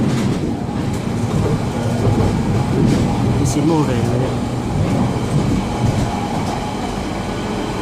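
A train rumbles steadily past with rhythmic wheel clatter and a brief squeal, loud and close, while a person talks over it.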